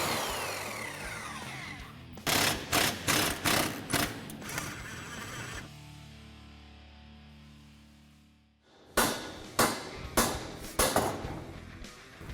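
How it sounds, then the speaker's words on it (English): Stock exhaust downpipe on a 3.5L EcoBoost F-150 cut near the weld with a power tool, in two bursts of rapid, loud, grinding rasps separated by a quieter ringing pause. "We're going to make a cut right here as close to the weld as possible."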